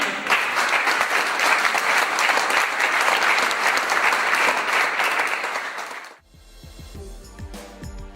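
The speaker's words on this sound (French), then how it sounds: "Je vous demande de l'applaudir vraiment." An audience applauds a mayor receiving a medal with loud, sustained clapping that fills the room for about six seconds, then stops abruptly and gives way to a quieter musical passage.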